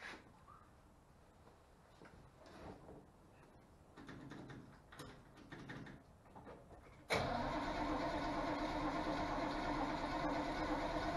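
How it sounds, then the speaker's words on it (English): A 1963 Corvette that had sat for 19 years cranks over before the coil is connected, a rough uneven churning for several seconds, then a sudden jump to a loud, steady, broadband roar. "first I'm going to crank it over a little bit before I connect the coil"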